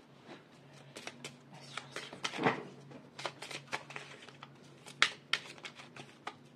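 An oracle card deck is shuffled by hand in a quiet room, a run of crisp riffling and sliding snaps with a few sharper slaps, close and fairly soft, with no talk over it.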